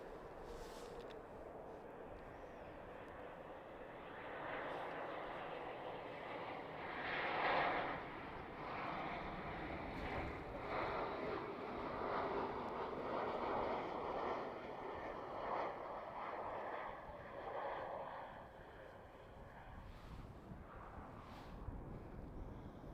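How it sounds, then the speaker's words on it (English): An Embraer 190 jet landing on Schiphol runway 18R in winter conditions, a distant engine roar swelling and fading with wind rumble over the whole stretch. "next up is that Embraer 190 coming in from Venice"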